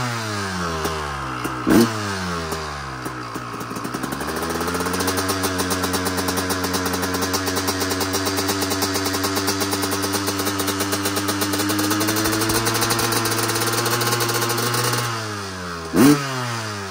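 A rebuilt 250 CR motorcycle, said to have a cracking sound from the exhaust, fires up, then revs high and holds a loud, steady buzzing drone, with sharp bangs near the start and end.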